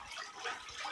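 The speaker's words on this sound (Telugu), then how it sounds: "ఇక్కడ నుంచి వాటర్ కూడా వస్తుంది" Water flowing from a spring at the source of the Godavari in the Brahmagiri hills, a steady, soft broadband splashing and trickle heard alone for a brief moment.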